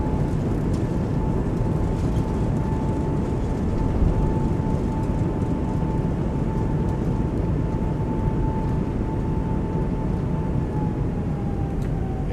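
Thrust reversers on an Airbus A220 in a flight simulator roar as the jet decelerates after landing, a loud, unbroken wall of rumbling engine noise with a faint steady whine running through it.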